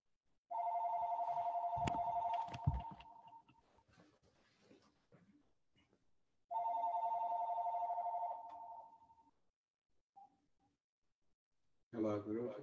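A telephone ringing during a call, in two long electronic ring bursts separated by a pause, each clear and prominent, with quieter rustling between them and a voice beginning to speak at the very end.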